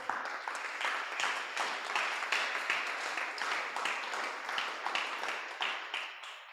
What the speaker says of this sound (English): You have been clapping several times.